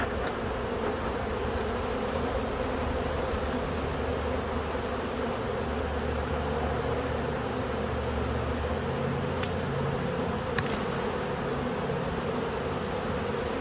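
Honeybees in a queenless colony, a dense continuous hum of many buzzing wings at close range, steady and even throughout with no talking.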